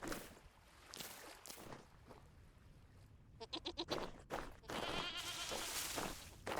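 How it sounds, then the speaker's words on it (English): Goats bleat in short, wavering, high-pitched cries several times outdoors on a farm, fairly close, with rustling footsteps and movement in between. "It's just like a high-pitched version of the normal goats"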